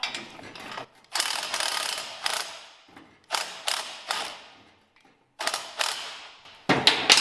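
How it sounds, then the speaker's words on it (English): Lock nut being tightened onto a wheel of a weed burner incinerator during assembly, giving repeated close ratcheting bursts of clicking, each lasting about a second with short pauses between, no talking. "And now lock nut back on again, and tighten that up."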